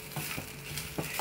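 Spices such as asafoetida, pepper and cumin sizzle in hot oil while tempering for Mysore rasam, a steady close frying hiss with soft stirring taps.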